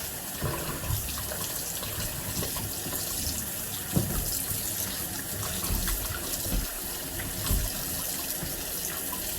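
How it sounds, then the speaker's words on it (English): Steady running cold tap water splashing continuously into a sink, with occasional soft thuds and knocks as cut, scored chicken pieces are rinsed under the stream. "I'm just now going to use cold water just to give this chicken a final wash."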